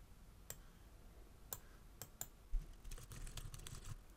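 Keystrokes on a computer keyboard while filling in a blank answer in a classroom testing program: a few spaced clicks, then a quicker run of soft typing, close and fairly quiet.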